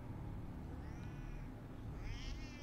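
A cat meows in a South Park video game, two faint drawn-out mewls over a steady background hum, with no talking.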